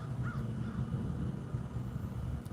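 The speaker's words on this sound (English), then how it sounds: "notice how you hear the crows in the background" Crows caw faintly in the distance outdoors, a couple of brief calls over steady background noise and light wind.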